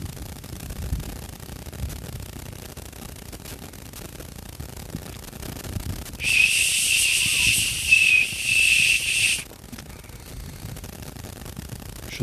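A handmade ash wood whistle blown in short bursts, giving a bright breathy hiss-like tone that lasts about three seconds with a brief dip in the middle, heard close against faint background noise.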